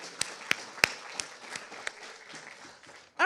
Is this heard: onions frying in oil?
no